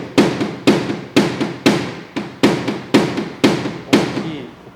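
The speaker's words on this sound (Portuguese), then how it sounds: "Onde o contato aqui da ponta do martelo de borracha com a lata é maior." A rubber mallet strikes sheet metal during dent repair, landing nine sharp, ringing blows in a steady rhythm, each with a brief metallic decay, loud and close with no talk.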